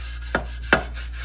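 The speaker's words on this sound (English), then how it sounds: "try to clean the inside of this up, get the rust out of it" Scrubbing rust out of the metal seed meter housing of a John Deere Max Emerge planter: two brief scraping strokes, about a third of a second apart, sound over a steady low background hum.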